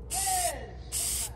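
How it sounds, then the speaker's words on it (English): Two short hissing spray bursts of oil from a can held about three inches from the pleats of a K&N air filter, close and fairly loud, with a quiet pause between them. "So what they say is to spray about 3 inches away and then just go down the pleats"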